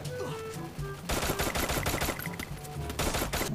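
Rapid gunfire in the mobile battle-royale game Free Fire, starting after about a second with a dense burst of shots over game music, fairly loud and continuous to the end.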